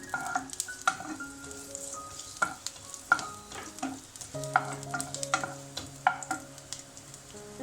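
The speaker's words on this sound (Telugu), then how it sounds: "వెల్లుల్లిపాయ, అల్లము, చిన్నగా సన్నగా ముక్కలుగా తరిగి పెట్టుకున్న అల్లము వెల్లుల్లిపాయ వేసుకొని ఫ్రై చేసుకుందాం" Finely chopped garlic and ginger sizzle in a hot pan for a chilli baby corn starter, with a spatula clanking and scraping in an irregular rhythm over the constant frying hiss.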